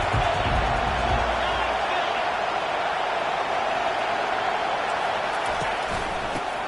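A college football stadium crowd gives off a dense, continuous roar that stays steady and loud throughout.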